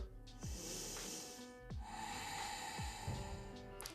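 Breaths drawn during a pelvic floor yoga exercise, several airy close inhales and exhales in a slow rhythm over faint background hum.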